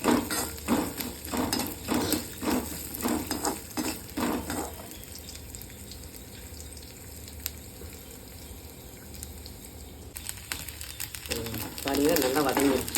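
Grated coconut roasts in a pan for coriander chutney, a soft dry sizzle with stirring scrapes and utensil clinks running under continuous talk, louder at the start and end.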